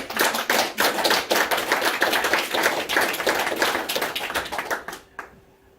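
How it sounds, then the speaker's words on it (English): Audience applause after a senior presentation on queer history, a dense burst of many hands clapping close and loud for about five seconds before cutting off abruptly. "Let's clap for you first"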